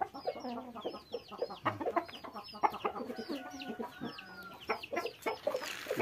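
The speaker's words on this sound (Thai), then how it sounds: "ไก่ชน" Several Thai fighting roosters cluck and squawk in quick, overlapping bursts nearby, a busy, restless chatter of fowl that never settles.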